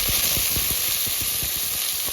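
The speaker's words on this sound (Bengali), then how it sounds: "ওই কচুগুলো ভেজে নেব" Taro pieces sizzle in hot oil with cumin seeds, a steady close frying hiss broken by a run of regular crackling pops and spits.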